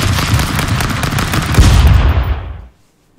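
Rapid gunfire from the video game Stick Fight, a loud dense burst of shots lasting over two seconds that cuts off abruptly into silence.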